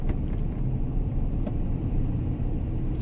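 A car engine idles and climbs on its own, a steady close rumble that holds throughout with a slight rising edge and no talk.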